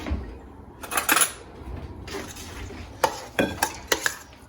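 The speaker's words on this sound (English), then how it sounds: "And then you grab a spoon and you mix it all up." A spoon mixes chickpea salad in a bowl, giving quiet, irregular clinks and scrapes against the bowl in short bursts with brief pauses between them.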